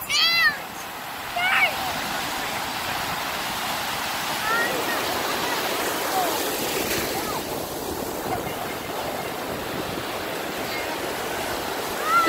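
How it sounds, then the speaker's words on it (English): Ocean waves at Myrtle Beach, South Carolina, rolling in as a steady loud roaring wash of surf, with a few faint high bird-like calls near the start. "The waves are picking up."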